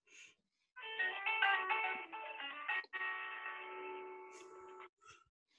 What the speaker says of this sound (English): That sounds like an old Nokia ringtone.